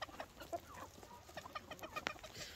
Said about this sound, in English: One of our roosters.